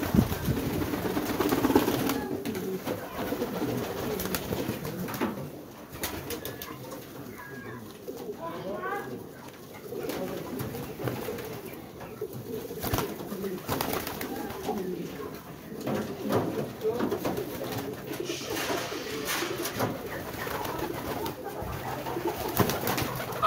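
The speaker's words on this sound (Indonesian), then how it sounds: "Burung merpatinya pada ngumpul" A flock of pigeons gathers to feed at a pigeon breeding site, many birds cooing in overlapping low, throaty calls with wing flutters and scattered clatter, close and continuous, while a person talks at times.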